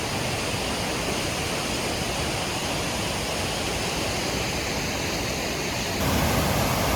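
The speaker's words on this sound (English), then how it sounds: "You can see the water rushing down and some more coming off the side over there." Loud, continuous rush of a fast, raging river at the Falls of Bruar, Scotland, beside a stone bridge in the rain, a dense roaring hiss that fills the scene and swells slightly near the end.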